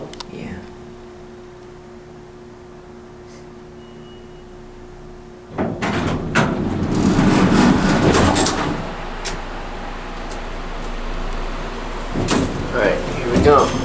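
A big National hydraulic elevator in San Mateo, California starts up, a low steady hum giving way to a door sliding and a rumbling motor run with knocks and rattles, while people talk quietly nearby.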